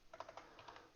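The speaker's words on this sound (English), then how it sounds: "So used to using this numerical keyboard." Quiet, rapid keystrokes on a numeric keypad while coding on a Commodore 64, about eight light clicks in quick succession, close and alone.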